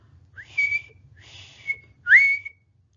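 A young boy whistling: three short, bright whistled notes, each swooping upward, separated by brief pauses, close and clear over a faint low hum.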